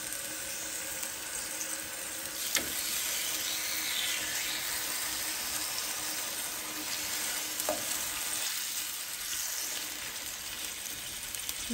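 Beef steak fries steadily in hot oil, a loud, continuous sizzle with a few sharp pops and brief clatters near the pan.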